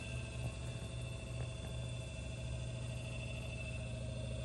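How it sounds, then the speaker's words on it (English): A reverse-osmosis water filtration pump motor runs with a faint, steady, low hum and a constant whine, unchanging from start to finish with no voices. "Hear the motor come to life."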